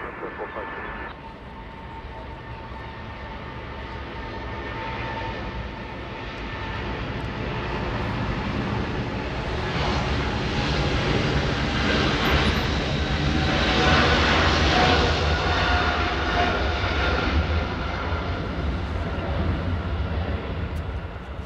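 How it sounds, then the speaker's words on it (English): A Lufthansa Boeing 747 touches down on runway 24R at Los Angeles International, its broad engine roar swelling steadily and staying loud and close, with faint talk mixed underneath. "We just saw Lufthansa 747 Queen of the Skies touchdown on 24 right"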